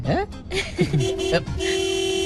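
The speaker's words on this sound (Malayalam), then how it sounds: "പിന്നെ എന്തിനാ ഈ ഹോൺ അടിക്കണേ?" A car horn toots in short bursts on an empty road, then holds a steady honk at the end, with people talking over the first half in a comedy scene.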